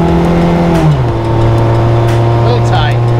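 An old golden car, back on the road after 40 years, idles and revs on its first test drive with a loose shift cable, the engine note steady and close while a voice talks over it.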